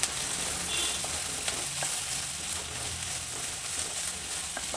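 Carrots, beans and spring onion frying in a pan for veg fried rice, a steady close sizzle with scattered light clicks of stirring, moderate and continuous, with no one talking.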